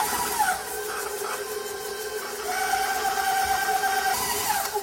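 An electric mixer whirs steadily while creaming gluten-free whoopie pie batter in a bowl, a continuous mid-level hum with slight pitch shifts and no talk.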